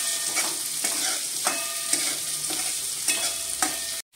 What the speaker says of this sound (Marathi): आपण आता त्याच्यामध्ये बारीक कापलेला कांदा टाकूया